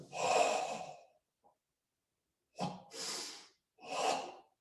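Forceful breaths during a karate punch-and-block drill: one long exhale, then after a pause a sharp inhale and two more strong breaths out, close and loud with no talking.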